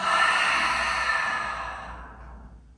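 A long, deep exhale during yoga breathing practice, a loud breathy sigh of air released from the lungs that slowly fades over about three seconds, heard alone.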